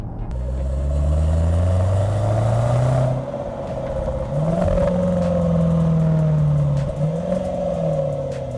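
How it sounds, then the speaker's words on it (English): A Range Rover Sport SVR's V8 engine roars loudly up close, revving in long rising and falling sweeps with its exhaust rumbling, a brief dip near the middle before it climbs again. "a V8 rumble that pops and bangs from the exhaust"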